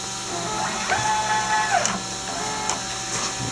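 A printer driving its Z axis upward, a steady close motor whine with rising and falling stepper tones over a constant mechanical hum, with no talking.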